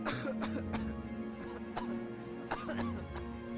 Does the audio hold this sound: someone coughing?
yes